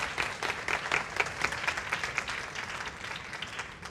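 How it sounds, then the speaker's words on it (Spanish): A church congregation applauds during a sermon, a steady round of clapping from many hands that is fairly close at first, then thins and fades toward the end. "Si lo va a aplaudir, apláudalo."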